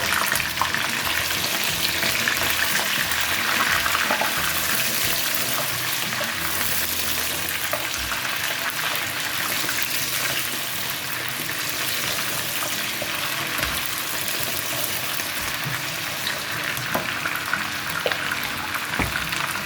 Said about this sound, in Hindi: प्याज का बघार करने के बाद प्याज हमारी लाल हो गई है, बघार बहुत अच्छा हो गया। और यहाँ पे हम डाल देंगे अपना मटन।